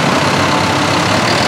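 A John Deere 210G tractor idling up close, giving a steady, loud, unbroken engine rumble with no voices over it.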